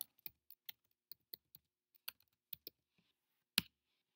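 Quiet, irregular clicks of computer keys being typed, single sharp taps spaced unevenly with short pauses, close and isolated, no talking.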